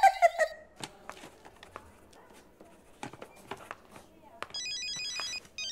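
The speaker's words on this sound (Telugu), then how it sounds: "ఎవరది వార్డులో ఫోన్ పెట్టుకుంది?" A mobile phone rings in a hospital ward, electronic tones sounding at the start and again near the end, with scattered footsteps and shuffling in a quiet room between them.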